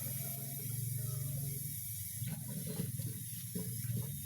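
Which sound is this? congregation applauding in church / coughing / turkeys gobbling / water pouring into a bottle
water pouring into a bottle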